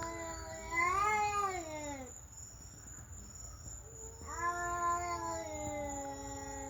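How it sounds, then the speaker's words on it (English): A cat caterwauls in two long, wavering, drawn-out yowls separated by a short pause, with crickets chirping steadily in the background. "That is a weird cat."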